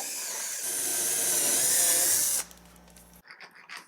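A power drill boring a 3/8 inch pilot hole in a newel post whines steadily at high speed for a couple of seconds, then spins down and stops, leaving faint clatter and room noise.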